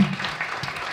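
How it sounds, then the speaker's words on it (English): An audience applauds in a brief, dense burst of clapping that fills the space. "A big round of applause for Mbima."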